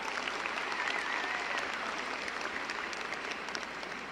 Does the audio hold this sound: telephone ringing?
no